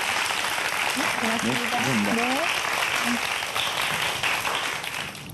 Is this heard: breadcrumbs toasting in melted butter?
no